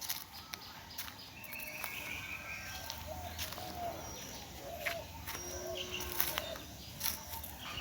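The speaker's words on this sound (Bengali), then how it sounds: "বিভিন্ন ধরনের পাখির শব্দ আপনারা শুনতে পাবেন" Assorted birds calling and cooing in leafy village countryside, with soft insect chirps, continuous and moderately distant, no talking.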